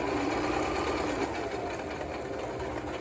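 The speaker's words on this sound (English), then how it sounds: "I'm also just stitching right in the middle of that ribbon" A sewing machine runs steadily, stitching through ribbon on a festive fabric banner, a loud continuous whirring hum with no pauses.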